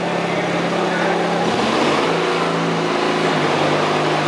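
A small lawn tractor engine at a tractor pull drones steadily, then its pitch shifts upward as it revs, loud and close throughout.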